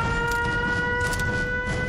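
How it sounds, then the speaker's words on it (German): Sirens wail in the video game Fallout 4, holding steady tones with a faint rising and falling quality, sounding distant above a low, rumbling ambient background. "Wir sind wegen der Sirenen gekommen, ne?"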